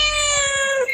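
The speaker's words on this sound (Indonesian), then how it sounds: "Ada kucing." A cat gives a single clear, drawn-out meow, close and loud, with no other sound around it.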